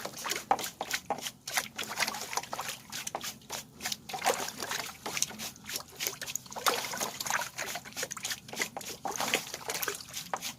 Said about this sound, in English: I'm getting a little more water on here.